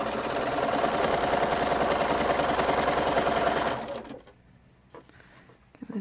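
A sewing machine stitches pieces of fabric together in a fast, steady rattling run close to the mic, then stops, leaving faint handling noises and quiet rustles.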